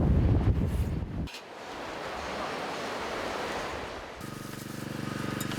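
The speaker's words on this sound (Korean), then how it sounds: "오늘 파도가 많이 쳐요." Ocean waves wash onto a cold, windy shore with a broad hissing surge, moderately faint, and wind buffets the microphone at the start and end.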